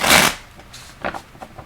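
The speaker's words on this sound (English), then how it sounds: "There's a good shuffle." Tarot cards are shuffled close up, starting with one loud riffle burst and followed by a few softer flicks and taps.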